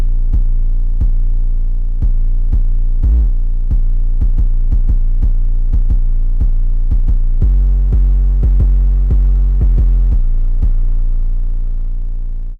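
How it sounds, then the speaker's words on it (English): A deep, distorted 808 bass drum plays in a rhythmic pattern, booming low hits with gritty overtones and a few longer sustained notes. "So that's how the 808 sounds."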